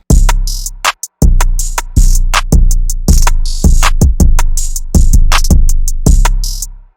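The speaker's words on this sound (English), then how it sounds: "These are what the drums sound like." Loud hip-hop drum pattern made in FL Studio, with punchy basic kicks, sharp claps and booming 808 bass hits repeating in a steady groove, no voices.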